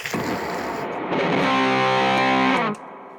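A guitar amp with several distortion pedals on roars with heavy distortion, a loud buzzing sustained tone that swells and then cuts off abruptly into near silence as the pedals are switched off.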